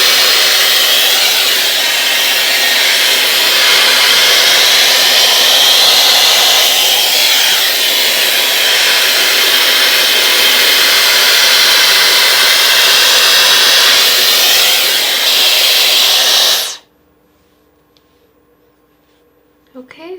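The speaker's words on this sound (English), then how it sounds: "I'm going to turn this on. I'm going to put in the highest heat setting and the highest speed" A Dyson Airwrap hair styler runs on its highest heat and speed setting, a loud, steady broadband airflow roar close to the mic for about seventeen seconds before it cuts off abruptly into near silence.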